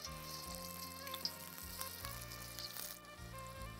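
Crumbled marinated batter mixture frying in hot oil in a kadai, a faint steady sizzle with light crackles, no voices.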